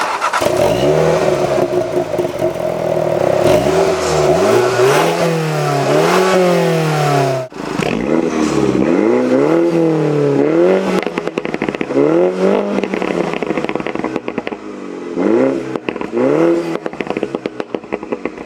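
A 2019 Mini John Cooper Works Hardtop engine revs hard through its exhaust, rising and falling in repeated loud bursts with crackling pops between throttle blips.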